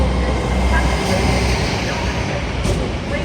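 A train departing York station for Manchester Victoria, heavy rumbling of rail wheels and engine close by, loud and continuous with clattering as carriages roll past.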